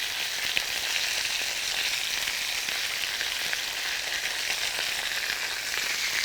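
Salted and peppered pork chops searing in a hot pan, a dense, even sizzle holding steady and loud throughout, close by with no talking.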